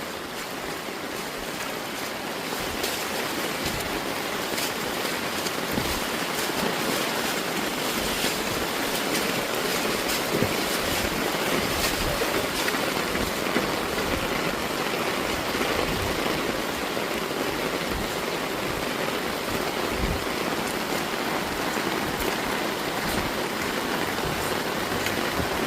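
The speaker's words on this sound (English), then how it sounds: "Little bit rain fall down, you may flood." Steady heavy rain falls on a main road at White River in Honiara's Independence Valley on an evening, making a dense, continuous hiss with splashing droplets throughout and no voices.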